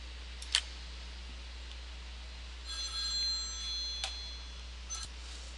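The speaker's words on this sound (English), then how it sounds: "a little phone call" A telephone rings indoors, faint and distant, with a couple of brief tones followed by a longer ringing burst and a few later pips over a steady hum.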